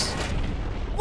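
Gunfire from the Captain America: The Winter Soldier film, a dense burst of booming shots and impacts filling the short moment, loud and close, without speech.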